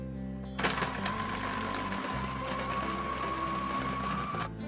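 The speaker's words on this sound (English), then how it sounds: "This is like an incredibly fast mixer" A fast electric mixer whips a chocolate soufflé mixture, running as a steady, loud, high-pitched motor whir that starts abruptly and holds for a few seconds before cutting off.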